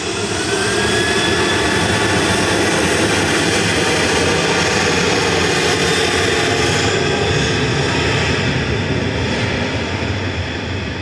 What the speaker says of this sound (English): Have we got another air tanker?